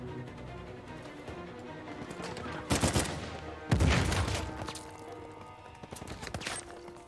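Sniper gunfire in Uncharted 4, heard as two sharp, loud cracks a second apart over a constant background of game noise and distant clatter.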